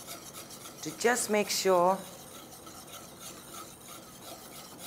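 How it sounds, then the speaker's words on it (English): A whisk scrapes and rasps around a pan as gelatin is stirred into a panna cotta mixture, a steady, faint scratching that runs under a brief spoken phrase. "I like to use a whisk"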